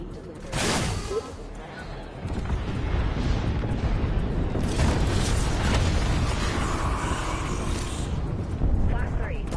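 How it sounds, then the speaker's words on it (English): Missile launches and explosions in a shooter video game, a sustained loud roar of booms and blasts with sharp bursts near the start and middle, with people talking over the action. "Class 3, launching missiles."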